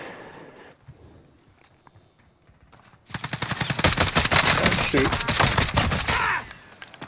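In a video game shooter, a DMR and a MAC-10 fire together. A few quiet pops in the first few seconds give way to a loud, dense stretch of rapid automatic fire that lasts about three seconds and then stops.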